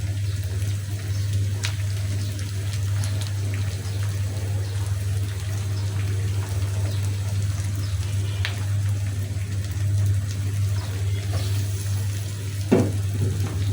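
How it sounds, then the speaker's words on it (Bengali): Raw bitter gourd frying in a pan and slowly stirred, a steady broadband sizzle with a low hum running throughout, continuous and fairly close, with a few faint scrapes. "দিয়ে দিচ্ছি কাঁচা করলাটা। এখন আস্তে আস্তে আস্তে আস্তে নেড়ে নেড়ে ভাজি"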